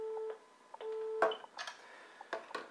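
A mobile phone call on a landline dongle setup ends with steady beeping tones, a couple of repeated electronic beeps followed by several brief clicks and blips, fairly quiet and close.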